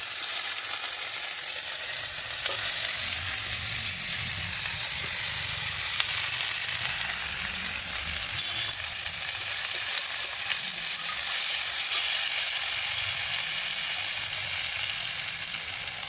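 Two dried red chillies, cardamom, cloves and bay leaf crackling in hot oil in a pan, a steady close sizzle lasting the whole stretch with faint stirring, no talk.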